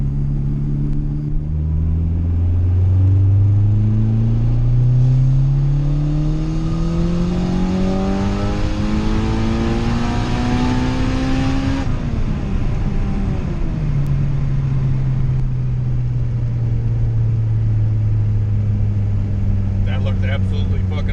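A turbocharged Honda Integra GSR engine revs hard through a pull, its loud, continuous roar rising steadily in pitch for around ten seconds, then dropping and settling into a lower drone for the remaining stretch.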